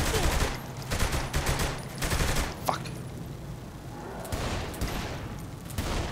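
Gunfire in the Saints Row 3 video game, with dense rapid bursts of shots that come in clusters across the clip and fade briefly in the middle before picking up again.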